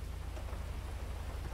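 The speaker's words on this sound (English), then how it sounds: "Is it raining, boys? Yeah," Steady rain hisses continuously with a low rumbling undertone, an even wash of noise with no voices.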